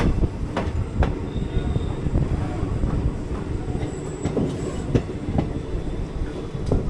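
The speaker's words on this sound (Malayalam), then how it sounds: "ജസ്റ്റ് കെങ്കേരി സ്റ്റേഷനിൽ നിന്ന് പുറത്തോട്ട് ഇറങ്ങുന്നു. മെയിൻലൈൻ ഡിപ്പാർച്ചറാണ്" The 20624 Malgudi Express pulls out of Kengeri station on the main line, heard from inside an AC chair car as a steady loud rumble with repeated clickety-clack wheel beats and faint squeals.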